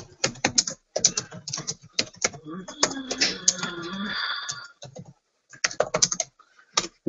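Bursts of quick clacking keystrokes on a computer keyboard, near and crisp, with voices talking in the middle stretch between the typing runs.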